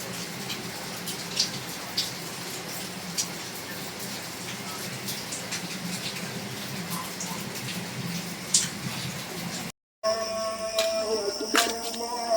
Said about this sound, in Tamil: நல்லா மழை.